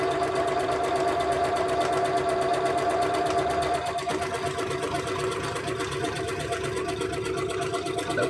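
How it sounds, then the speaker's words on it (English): A sewing machine runs steadily while stitching a square buttonhole, a continuous mechanical whir with fast repetitive needle clatter at close range, holding even throughout with a slight dip midway. "Yeah, we'll do a square buttonhole on this one."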